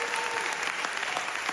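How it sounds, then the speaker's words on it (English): Applause from a studio group on a Bears and Packers NFC North football talk show, a brief steady patter of clapping with no voices over it. "The applause."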